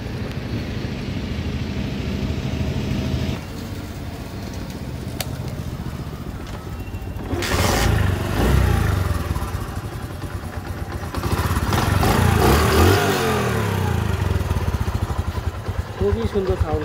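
A late-model Pakistani-built Honda CD 80 motorcycle is kicked into life and settles into a steady idle nearby, with a person talking over the engine.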